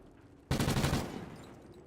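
A burst of rapid automatic gunfire in Call of Duty: Ghosts, firing a fast rattling string of shots for about half a second after a quiet start, then tailing off into fading echo.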